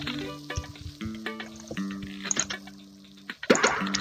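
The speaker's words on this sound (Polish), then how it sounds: "Teraz nalejemy napoje." Drinks being poured in the Papa's Pancakeria cooking game: a watery pouring and filling sound over looping game music, with a louder splashy burst near the end.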